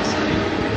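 A train rolling past close by near a bridge in São Paulo, a steady broadband rumble and rail noise filling the short stretch without clear breaks.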